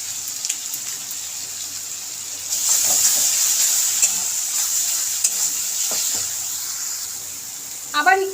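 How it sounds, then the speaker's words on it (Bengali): Masala with Kashmiri red chili powder sizzles in a pan while being stirred, moistened with a little water; a bright, crackling fry swells louder partway through, with scraping stir strokes and a short burst of sound near the end. "এইভাবে জল দিয়ে কষালে মশলাটা ধরেও যাবে না, আর খুব ভালোভাবে কষানো হয়ে যাবে।"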